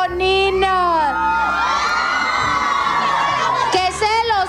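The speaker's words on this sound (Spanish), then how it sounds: "las fans están bien gritonas" A crowd of fans at a birthday party screams, whoops and cheers together, loud and close, with high shrieking voices sustained throughout.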